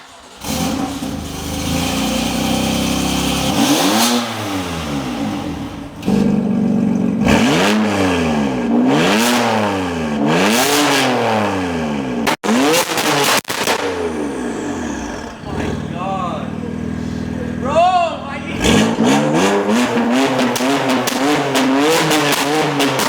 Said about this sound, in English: we can finally debut what this car is going to sound like with the single mid-pipe option